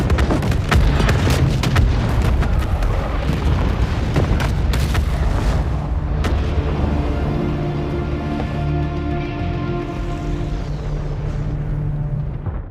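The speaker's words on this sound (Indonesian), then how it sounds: "tiba-tiba terjadi ledakan yang dahsyat pada posisi musuh saat ini" A huge explosion at an enemy position in an action film: loud, dense blasts and crackling bursts that settle into a long, heavy rumbling roar, with no voices.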